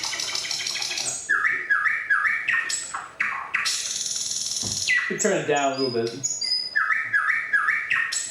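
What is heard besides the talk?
thrush nightingale song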